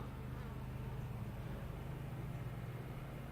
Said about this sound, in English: There's a guard bee hanging out there.